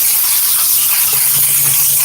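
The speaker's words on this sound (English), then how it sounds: "I want to make sure that I attack it with the steamer" A steam cleaner blasts the floorboard of a Toyota Highlander during interior detailing. It makes a loud, continuous hiss that holds steady with no talking, and a faint low rumble sits underneath.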